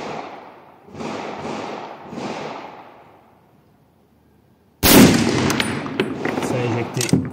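An M1 Garand rifle fitted with an adjustable Schuster gas cylinder plug fires one loud sharp shot late on, after a few softer thumps and a quiet pause, with the blast's echo and the action cycling trailing after it.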